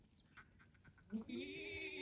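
A Kathiawari goat gives a single drawn-out bleat at the end, preceded by faint scattered background noise; fairly quiet and somewhat distant.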